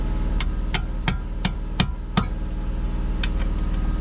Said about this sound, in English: I'm trying to take a 3/4 and beat a 17 mil on top of it.